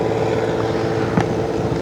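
Strong wind buffets a stopped motorcycle on a mountain road near Mount Masaraga, a steady loud roar with low rumble throughout and a brief gust spike near the end.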